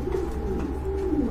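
Blue-colored homer pigeons coo in a low, steady rolling murmur, close and continuous, with a faint background hum and no speech.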